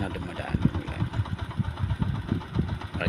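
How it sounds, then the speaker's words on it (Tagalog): Motorcycles rumbling along a street nearby, a continuous mid-pitched engine drone with uneven surges and a throbbing pulse, moderately loud, no clear talking over it. "may mga motor sila na dumadaan"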